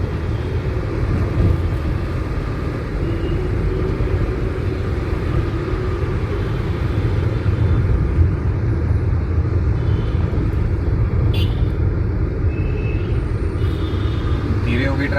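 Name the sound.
car driving in fourth gear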